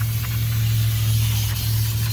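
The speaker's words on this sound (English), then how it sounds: "You want to spray all around to cut down on that dust" Brake cleaner sprayed from an aerosol can onto the rear brake shoes and drum of a 1993 Ford Bronco 5.8, a steady close hiss running unbroken for the whole stretch over a low background hum.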